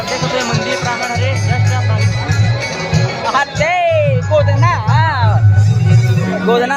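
Dense festival crowd bustle on temple grounds at Narmada Mahotsav, a continuous babble of many voices with music and a droning loudspeaker tone mixed in, close and steady throughout.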